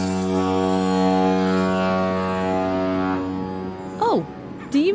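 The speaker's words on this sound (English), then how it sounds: "It's something that floats on water. That's right, it's a boat" A boat's horn blows over water in a loud, steady, sustained tone for about three seconds, fading briefly before a short wavering tone and a final burst near the end.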